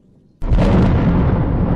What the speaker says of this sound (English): explosions echoing through the ship